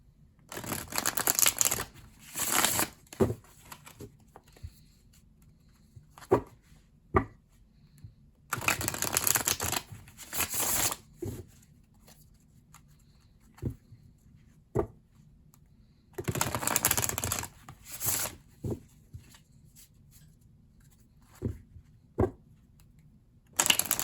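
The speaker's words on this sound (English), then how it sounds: "let's shuffle your cards" Tarot cards are shuffled by hand in repeated bursts of rapid riffling and flicking, interspersed with sharp taps and quiet pauses, close and clear.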